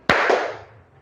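A single loud, sharp clap from children in a classroom during a rhythmic clapping game, followed by a softer second clap and a quick fade to quiet.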